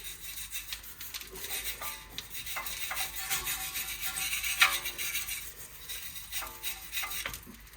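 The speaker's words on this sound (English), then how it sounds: "you can clean the wheel hub itself with the wire brush as well, with a drill" A drill-driven wire brush scrubs a Mercedes E 220 BlueTEC W212 front wheel hub, a faint, uneven scratchy rasping that pulses in short bursts throughout.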